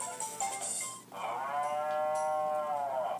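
A cow moos in the Harvest Moon farming video game, one long, loud, drawn-out call that follows a few shorter game chimes, heard alone without talk.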